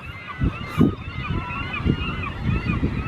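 Seabirds call in a wild feeding frenzy at White Rock, repeated honking cries close by over a steady bed of chatter and wind.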